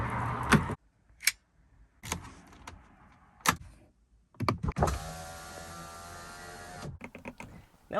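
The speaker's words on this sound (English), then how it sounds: "I've pressed the button multiple times, I've turned the car on and off, but this is as far as the window goes down on the rear windows." A Skoda Yeti's rear power window motor whirs for about two seconds, close by, between scattered clicks and knocks from the button and door. No one speaks.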